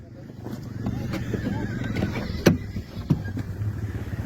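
Horses neighing as a rider is chased by a car in open countryside, several whinnies rising over a busy mix of engine rumble, hoof and vehicle noise, with two sharp louder knocks near the end.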